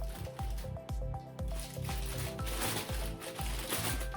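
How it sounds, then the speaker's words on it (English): Rice is poured into a homemade rain catcher made from recycled materials, giving a run of repeated soft rattling, pattering pulses at a steady rhythm, close and fairly quiet with no talk. "now we're gonna pour some of the rice in."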